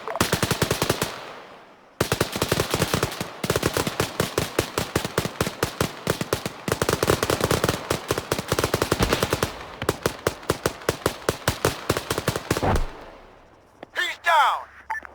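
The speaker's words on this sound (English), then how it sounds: "Lacey, Taylor, fire at will." Sustained automatic gunfire in a military video game, long rapid bursts of loud machine gun rounds with brief pauses, ending in scattered shots and a short metallic clatter.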